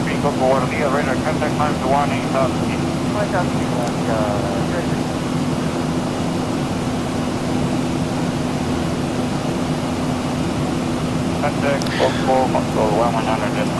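Inside the cabin of a Copa Airlines jet airliner climbing out of Panama City, a constant loud engine roar and airflow drone fills the space while people talk over it.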